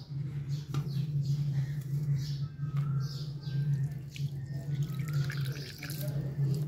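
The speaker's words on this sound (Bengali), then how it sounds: "এইবার এটাকে ভালো করে চেপে চেপে এরকম করে নিংড়াতে হবে।" Soaked potato slices for chips are squeezed by hand, giving soft wet squelches and trickling water close by over a steady low hum.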